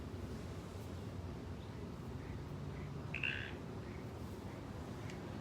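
Bird calling outdoors, one short faint chirp at a distance over steady wind and background rumble.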